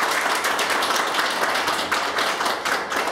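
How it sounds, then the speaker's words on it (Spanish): Audience applause for students at an event recognising student environmental organisations, a dense, steady wash of many hands clapping at close to moderate distance throughout. "Un aplauso también para nuestros chicos."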